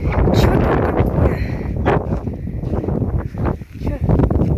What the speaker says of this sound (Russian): Сильный ветер, очень сильный.